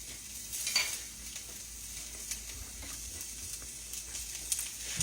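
Food browning in a hot pan during a home-style night-time supper, with a steady soft sizzle and occasional stirring scrapes close by, and no talking.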